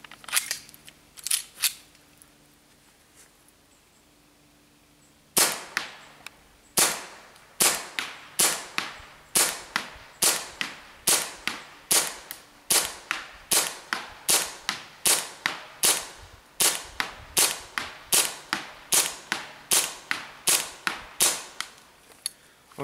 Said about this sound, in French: Donc, nous voilà pour le test de tir du Colt MK4.